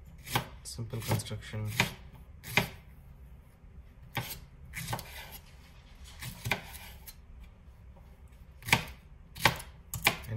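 A nakiri knife cuts through vegetables on a board with sharp, irregular chops, some in quick clusters and others spaced apart. A voice speaks briefly.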